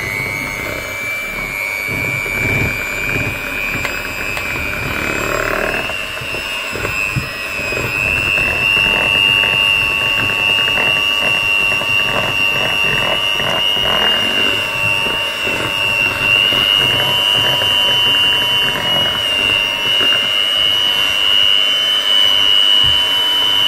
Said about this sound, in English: now I'm going to use this mixing machine.